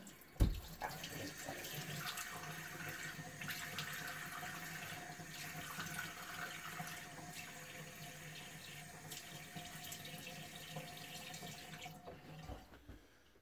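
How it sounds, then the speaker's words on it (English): A tap runs steadily at close range in a bathroom during a wet shave, with a brief splash near the start as cold water is thrown onto the face. "I'm going to put a little cold water splash here"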